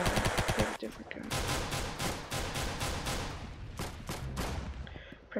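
Rapid bursts of gunfire from Roblox Arsenal, loud and close, firing in quick repeated volleys with brief pauses between strings of shots and a few sharp single cracks.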